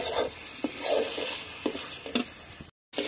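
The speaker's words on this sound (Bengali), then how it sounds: "এখন সবগুলো আমি একসঙ্গে আরো ভালোভাবে কষিয়ে নেব।" Meat sautéed together with freshly ground nutmeg, mace and other spices in a pan for mung dal with meat, a close sizzle punctuated by several scraping stirs, ending in a brief cut and resumed frying.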